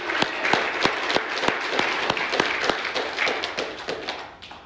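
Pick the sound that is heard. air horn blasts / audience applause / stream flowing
audience applause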